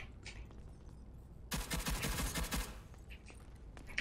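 A sudden burst of rapid automatic gunfire in the video game Rogue Company rattles loudly for about a second, with quieter game ambience before and after.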